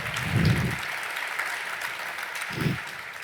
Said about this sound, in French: Vous pouvez les encourager, les applaudir.